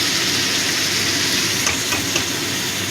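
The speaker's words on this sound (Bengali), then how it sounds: "এই ছানাটা দিয়েও একটু ভেজে নেব।" Chhena, a fresh cottage cheese, fries in a pan for a curry, giving a loud, dense, continuous sizzle with faint stirring throughout and no voices.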